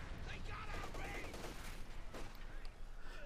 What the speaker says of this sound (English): They cook off the ammunition.